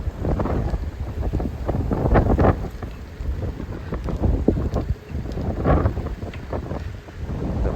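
Dry wind blowing outdoors in Canada, a steady loud rumbling rush buffeting the microphone with gusty swells, continuous and close, no talking.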